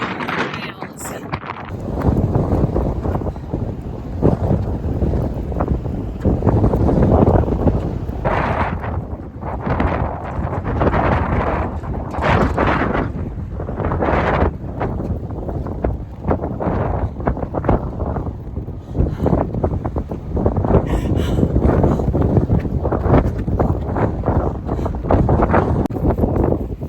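Heavy, strong wind buffets the microphone during a five-mile run, giving a loud, continuous roaring rumble that surges and dips throughout.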